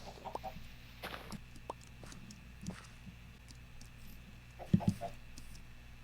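A chicken in the video game The Cure gives a few short, soft clucks over a faint ambient background, with a brief louder pair of clucks near the end.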